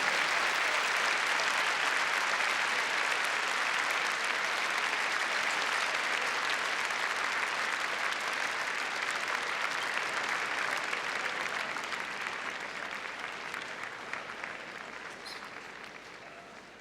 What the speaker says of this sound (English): give them a warm hand of applause to congratulate them on the success here at Crufts 2008